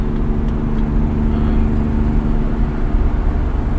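A BMW E30 333i driving, with a steady, smooth engine and road hum heard from inside the cabin and no talking.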